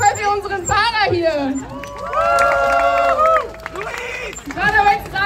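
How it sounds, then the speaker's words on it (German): A crowd at a protest rally cheers a speaker, with loud sustained shouts and whoops from many voices rising and falling over scattered clapping, close and energetic throughout. "Ein Applaus auf jeden Fall für unseren Zahner hier."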